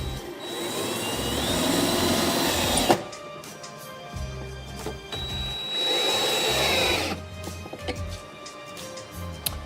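A power driver twice whirs screws in to mount a battery charger, each run a sustained motor whine lasting a couple of seconds, separated by clicks and handling knocks nearby.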